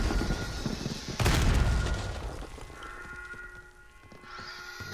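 Loud gunshot bursts from a gun in Call of Duty: Black Ops 6, a sharp close blast early on followed by quieter rattling shots and a fading tail, no talk.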